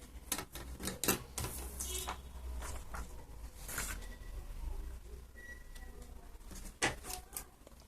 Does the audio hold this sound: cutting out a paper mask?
yes